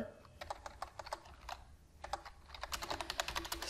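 Quiet computer keyboard typing while entering HTML code, irregular bursts of light key clicks, close and soft, with a short pause midway before a faster run of keystrokes.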